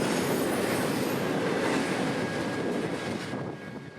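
A Union Pacific intermodal freight train rolls past close by with a dense, loud roar of wheels and cars, with faint squeal tones and easing slightly toward the end.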